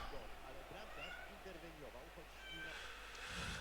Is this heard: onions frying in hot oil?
no